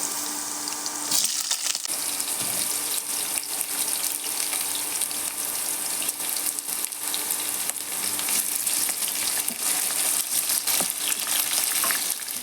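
Cut potatoes and green chillies frying in hot oil in a wok, a steady, dense sizzle that runs unbroken and fairly loud throughout, with no voices.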